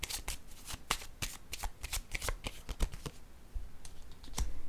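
Tarot cards handled and laid down on a table: a quick series of sharp, close papery slaps and flicks, fairly quiet, in an irregular rhythm with no talking.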